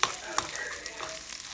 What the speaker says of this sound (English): at this point, I can go ahead and start stirring it.